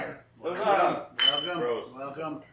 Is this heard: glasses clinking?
yes